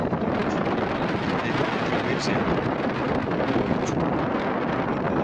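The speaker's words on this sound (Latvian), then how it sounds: "Baigais vējš" Strong wind on a beach buffets the microphone in a constant roaring rush, with a voice speaking briefly over the gusts.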